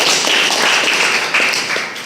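Audience applause for a speaker at a Toastmasters club meeting, a dense, steady patter of many hands clapping close by, fading slightly at the end.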